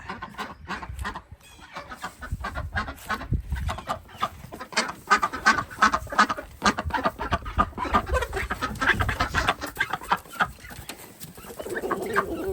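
Chickens cluck and squawk close by in a busy chorus, with sharp rattling and scratching sounds mixed in throughout.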